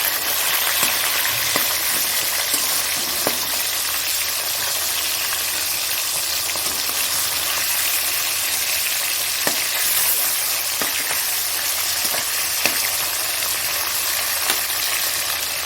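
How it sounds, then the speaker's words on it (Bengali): Fish frying in a pan for a fish curry, a loud, dense, continuous sizzle with occasional crackles and pops, no voice. "দেখো মাছটা ভাজা হয়ে গেছে"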